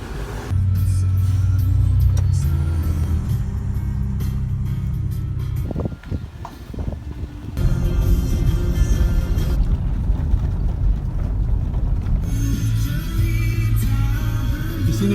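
A road vehicle drives along a road in Lombok, Indonesia, a steady loud engine rumble and road noise from inside, with a brief dip midway before the drone resumes.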